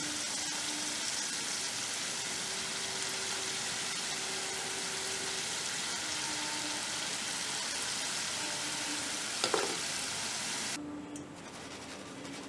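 Steady dense sizzling of wheat flour biscuits deep-frying in hot oil, loud and continuous for the whole stretch, with a brief clink near the end and a slight drop in level as it fades.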